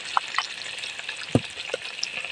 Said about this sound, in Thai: บางย่านนี่เฮาคั่วแล้วก็เฮาเอาน้ำทอกใส่